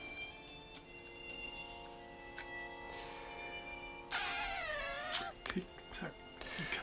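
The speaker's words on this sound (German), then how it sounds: "Tick-Tack, die Katze." A cat gives a clear, drawn-out meow partway through, with a few shorter cries after it, over quiet room tone and soft voices during a board game session.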